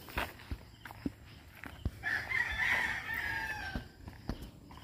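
A rooster crows once in the middle, with scattered clucks and footsteps around it in an outdoor farmyard after a fire.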